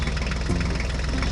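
A Ford tractor engine idling with a steady low, rapid thump and rough mechanical vibration, close and loud with no speech.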